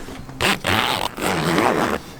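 Two quick rasping zipper pulls along the side window of a Bestop Supertop soft top on a Toyota Tacoma, close and clear with a short pause between them.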